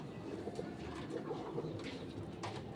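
Pigeons, small-to-medium racing birds being readied for a derby, coo softly in a loft, a few low murmuring calls standing out over a steady background hum.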